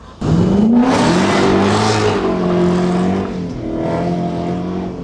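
Two BMWs, an E34 540i and a Z3, accelerate hard in a pull, with a loud, close engine roar rising in pitch for about three seconds, then easing slightly and continuing steady.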